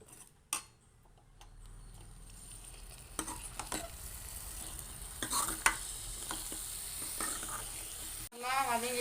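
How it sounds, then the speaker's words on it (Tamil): Drumstick and potato pieces sauté in a pan for veg kurma, sizzling and frying continuously while a spoon scrapes and clinks against the pan in scattered strokes, fairly close. "முருங்கைக்காய், உருளைக்கிழங்கு போட்டு வதக்கிக்கலாம்."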